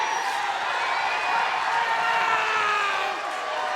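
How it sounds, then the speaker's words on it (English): A wrestling crowd at the Asylum roars and cheers in a steady, dense wash of noise behind Dusty Rhodes, holding loud for several seconds before easing slightly near the end. "Listen to the crowd here at the Asylum"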